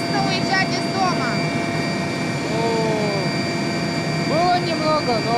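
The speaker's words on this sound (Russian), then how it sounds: "Винтокрылая машина направляется в деревеньку Снопа" A helicopter in flight carrying children to a remote village school, with a loud, steady rotor and engine roar filling the clip. Voices speak over it.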